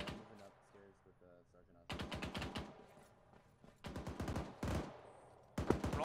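Automatic gunfire in the military shooter ARMA 3 rattles in several rapid bursts of evenly spaced, loud shots, separated by brief pauses with a low vehicle rumble between them.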